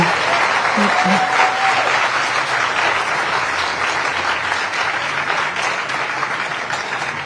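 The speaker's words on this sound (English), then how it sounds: "I would like you to give a big applause to the team who made this conference happen" Conference audience in Kenya giving a big round of applause to the organizing team, sustained dense clapping from a large crowd that slowly tapers, a brief voice or tone heard early on.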